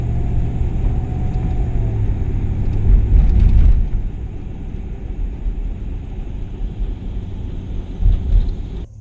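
Car driving toward a Target parking lot at night, a steady low engine and road rumble throughout, swelling briefly midway and again near the end, with no talking.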